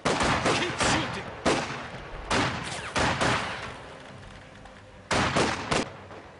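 Gunfire rattles in the Company of Heroes 2 video game as about six loud bursts of rapid shots come in irregular volleys with short gaps between them.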